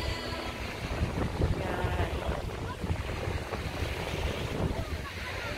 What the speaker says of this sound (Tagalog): Yan po yung dagat nila rito.